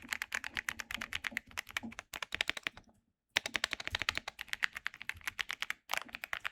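Fast typing on a Keychron Q6 Max mechanical keyboard gives dense, crisp keystroke clicks in quick bursts, close and clear, with one brief pause and no talk.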